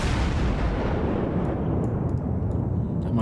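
A battleship's main guns fire a volley in World of Warships, one deep, loud, booming blast that rumbles on without a break for several seconds.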